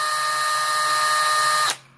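A GreenLee Kwik 660 carbide hole saw on a power drill cuts through a thin steel can, a loud, close, steady high-pitched whine and screech that cuts off abruptly near the end.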